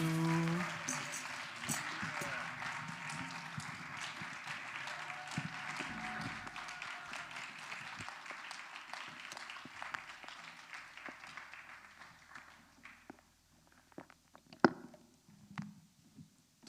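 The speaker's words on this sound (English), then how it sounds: "Do they deserve another round of applause?" A church service audience applauds loudly and steadily for several seconds after a band's performance, then the clapping gradually thins and fades, leaving a few scattered claps and quiet room noise.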